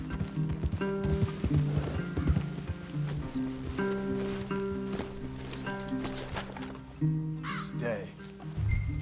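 Horse hooves clip-clop steadily in Red Dead Redemption 2, set in game music with a voice talking over the trotting rhythm.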